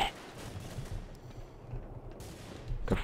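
Gunfire in the online game The Hidden: scattered faint rapid shots and crackling bursts over a quiet background, brief and distant-sounding, with no talk.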